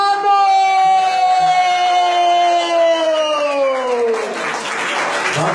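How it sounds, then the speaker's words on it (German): Audience cheering and applauding for hip hop performer MC Almano, long sustained whoops and shouts in front that give way to a burst of loud clapping. "mach mal einen fetten, fetten Applaus, richtig Lärm für MC Almano!"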